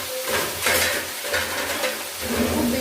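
Butter garlic prawns lightly frying in a pan, stirred with a utensil: a steady close sizzle with repeated scraping stirs, and no one speaking.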